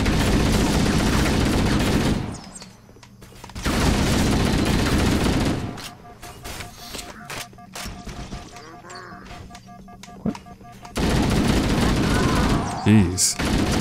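Gunfire in Halo: Combat Evolved, loud sustained automatic bursts in several stretches separated by quieter gaps with scattered impacts and game sounds, ending in another heavy volley.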